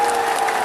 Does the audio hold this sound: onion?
no